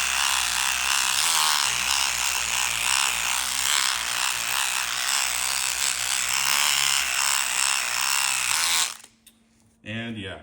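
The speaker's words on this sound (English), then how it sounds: "I'm just kind of working on just cleaning up some surface rust here on the outside of this die" A power tool whirs steadily while it scrubs surface rust off a metal die held in soft vise jaws. The sound is loud and close and continuous for about nine seconds, then cuts off, and a short burst follows.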